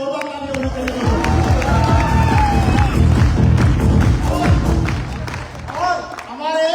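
A large audience at an event in Talkatora Stadium applauds and cheers loudly and continuously, clapping mixed with whoops and crowd voices throughout.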